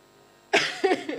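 A single person coughs up close after a quiet lead-in, a sharp burst followed by a couple of smaller hacking coughs.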